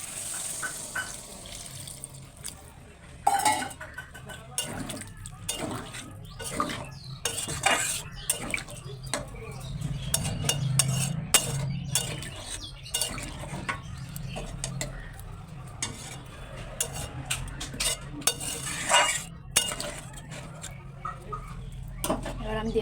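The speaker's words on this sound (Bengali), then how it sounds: "এখানে নাড়াচাড়া করবো।" Soybean and potato curry is stirred in a pan, with repeated metal clinks and scrapes of a utensil against the pan alongside running water and occasional speech in the background.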